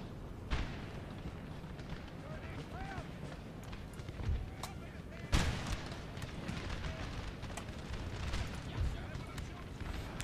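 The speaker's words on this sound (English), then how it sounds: "Let's get those guys hit with a barrage." An artillery barrage in Napoleon: Total War sounds as scattered booming impacts and sharp cracks over a busy battlefield rumble, with one louder blast near the middle and a voice talking over it.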